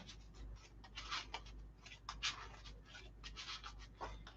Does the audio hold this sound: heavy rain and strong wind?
no